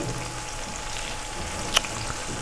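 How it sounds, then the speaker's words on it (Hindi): Potato fries fry in hot oil while being stirred, giving a steady, close, hissing sizzle throughout with one brief sharp clink of the utensil near the end and no voices. "इसको आप थोड़ा सा हिला भी सकते हैं ताकि ये जले नहीं और फ्राई भी होती रहे"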